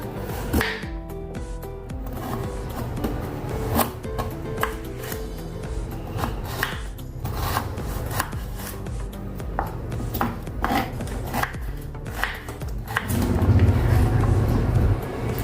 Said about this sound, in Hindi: अभी हमने गाजर को काट लिया है।